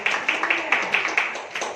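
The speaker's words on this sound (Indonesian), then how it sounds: "Berikan tepuk tangan." A church congregation at a Sunday worship service claps together, quick sharp claps landing in a loose, fairly even rhythm over roughly two seconds, with a voice faintly mixed in.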